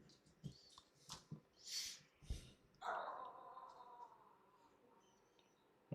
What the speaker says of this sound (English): My dogs are barking at Gene.